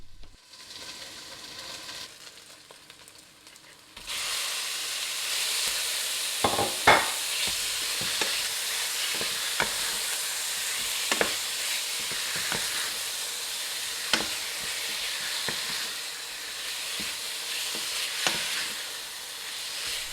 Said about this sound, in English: Fry that until the beef changes colour.